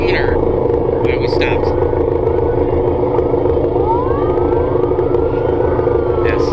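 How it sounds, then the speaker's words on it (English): An ambulance siren passes by a broken-down Benelli TRK motorcycle on a street, its rising and falling wail cutting through steady loud traffic and wind noise. "Is there an ambulance coming or?"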